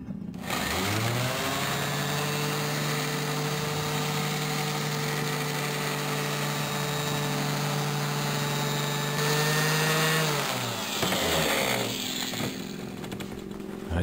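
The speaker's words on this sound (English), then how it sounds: "Use a good random orbital sander." A random orbital sander polishes chrome motorcycle pipes with a loud, steady motor whine that holds for about ten seconds, then winds down and starts up again near the end, with no talk.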